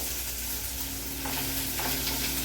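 Ground masala of coconut pieces and coriander leaves goes into onions frying in a pan, giving a steady close sizzle with soft stirring scrapes and no voices.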